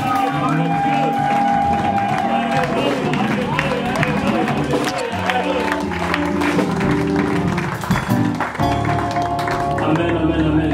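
A church prayer-cell congregation applauds and cheers for the Lord, dense steady clapping and voices over loud music and singing throughout, with a preacher's voice mixed in.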